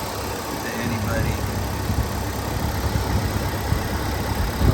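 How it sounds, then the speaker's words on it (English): A 1971 IHC Scout 345 V8 idling with Holley Sniper fuel injection, a steady low rumble with faint rhythmic ticking from the injectors, heard close up with someone talking over it. "You can hear the injectors firing on the sniper fuel injection."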